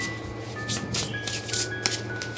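Tarot cards being shuffled and drawn during a love reading, a soft continuous papery riffle with brighter flicks at irregular moments over a steady background hum.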